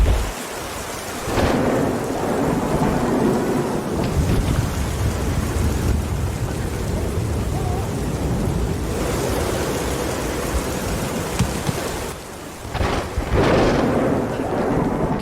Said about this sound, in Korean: 하필이면 폭풍우가 몰아치는 바람에 미끄러짐에 더욱 위험할 수도 있지만